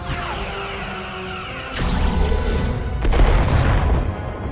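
Starship weapons fire in the Star Trek Resurgence video game: two heavy booming blasts, the first around midway and a stronger one a second later, each leaving a rumbling roar over a steady background hum.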